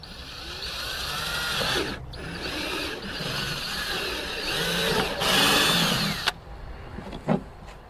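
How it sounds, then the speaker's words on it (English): A power drill whines and grinds in several long bursts while building a homemade fishing cart, close and loud, with brief pauses between holes and a few clicks at the end. "So let's drill these things out."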